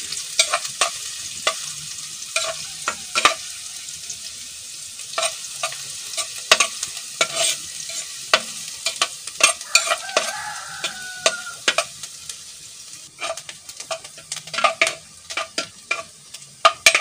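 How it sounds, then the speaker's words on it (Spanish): Onion and izote flower fry in a pan with a constant soft sizzle, broken by sharp scrapes and clinks of a utensil stirring, close and fairly quiet. "Primero así frío la cebolla"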